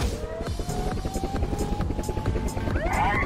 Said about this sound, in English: send the helicopter.